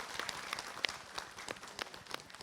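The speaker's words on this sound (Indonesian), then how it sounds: "Tepuk tangan dulu untuk kakek-kakek." A religious lecture audience applauds, a soft, scattered round of many hands clapping at some distance, steady and fairly faint throughout.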